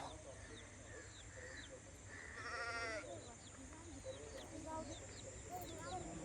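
Goats bleat a few times, one loud quavering call standing out, amid a busy outdoor background with birds chirping and faint voices.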